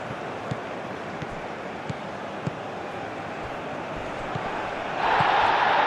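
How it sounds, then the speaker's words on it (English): Steady roar of a stadium crowd in a FIFA football match simulation, USA versus Spain in a World Cup final, as a broad continuous murmur that swells louder near the end. "the crowd's impatience is an indicator that they haven't quite given up on a goal just yet"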